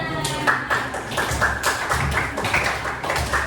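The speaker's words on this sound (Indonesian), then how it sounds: "Oke, kita beri tepuk tangan." Students in a classroom poetry lesson clap together in a short burst of distinct, fairly close handclaps with a loose rhythm, lasting a few seconds.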